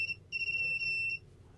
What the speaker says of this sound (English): So I guess the beeping can get pretty annoying.